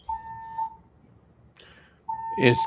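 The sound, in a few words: fire alarm going off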